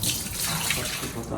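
Water runs out of soaked rice being strained for chicken biryani, a short close splashing gush that pours steadily through a strainer.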